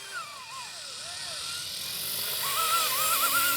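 A Yu Xiang F11 Apache RTF radio-controlled helicopter spools up to lift off, its motor and rotor whine sliding up and down in pitch over a steady airy hum that builds slightly louder toward the end.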